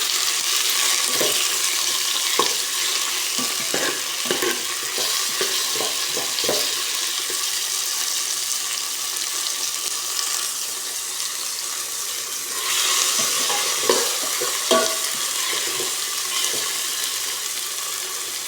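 Tomatoes cooking in a pot for a fish soup, a continuous wet hiss with scattered taps and clicks, swelling briefly louder partway through, close and without speech.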